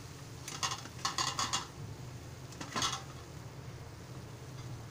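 Grated fresh coconut is stirred into a pan of drumstick vegetable, the spoon scraping and clinking against the metal in a few short bursts near the start and again a little later, over a steady low hum.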